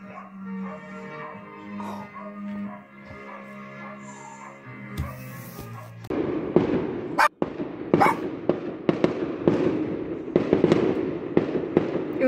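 Music plays softly, then a rapid series of loud New Year firework bangs and crackles bursts out, some near and sharp, others more distant.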